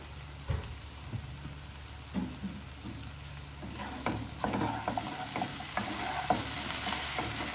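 Watermelon rind curry being sautéed and stirred in a pan over low flame, with a steady soft sizzle and repeated scraping clicks of the spoon that grow slightly busier toward the end, no voices.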